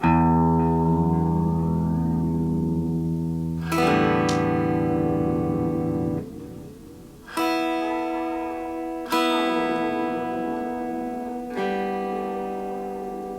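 Sustained guitar tones run through a DIY analogue delay pedal, with repeats warping and sweeping in pitch as the delay time knob is turned, creating spacey, wobbling echoes.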